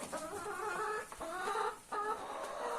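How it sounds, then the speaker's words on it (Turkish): Several hens cluck in short, overlapping bursts, fairly close, with a steady farmyard murmur underneath and no talking. "tavuklar her zamanki gibi takipteler sağ olsunlar"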